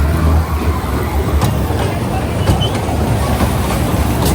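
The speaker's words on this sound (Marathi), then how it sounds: "हा झू सफारी ट्रेन आहे" A small zoo safari ride train rolls along a short track with a continuous rumbling noise and occasional clicks, heard up close under faint background chatter.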